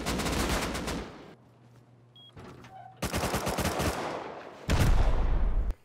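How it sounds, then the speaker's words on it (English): A firefight in the game Rust breaks out in loud bursts of rapid gunfire. Short quiet gaps with faint tones separate the bursts. "we're in a hectic firefight"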